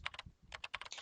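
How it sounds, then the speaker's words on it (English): Fingers tap a computer keyboard in the video game Chaos;Child, a close, quick run of crisp key clicks in two short bursts separated by a brief pause, with no talk. "I spoke loudly to keep up with the sound of fingers hitting keys."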